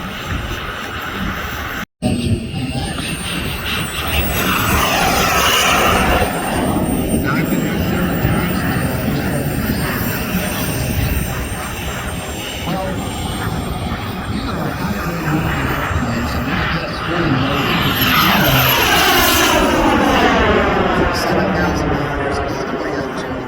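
A model SU-27 jet aircraft flies and comes in to land at an Arizona warbirds and classics air show, producing a loud, sustained jet roar that swells and fades as it passes, with voices talking over it.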